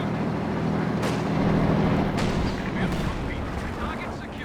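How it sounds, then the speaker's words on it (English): Artillery barrage in the wartime strategy game Company of Heroes 2: several heavy booming impacts land in succession over a dense, rumbling battle din, loud and continuous throughout. "First barrage."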